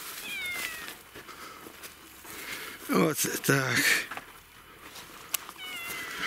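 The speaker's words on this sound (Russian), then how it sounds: "А вот коты." Several cats meow in a rural village yard, their thin, high mewing coming and going near and far while someone talks briefly.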